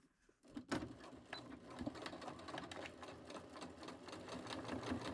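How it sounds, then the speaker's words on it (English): Sewing machine back stitching around the corners of a dish mat folded into a basket, a steady rapid mechanical whirr with needle clatter that runs continuously and close after a brief quiet start. "I am going to back stitch at the start and end."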